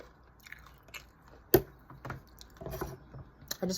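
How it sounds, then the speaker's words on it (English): Rolled Takis tortilla chips are bitten and chewed close to the mic: one sharp, loud crunch, then a run of smaller crackly chewing crunches at an uneven rhythm. "I do enjoy the crunch. It's a nice sturdy crunch."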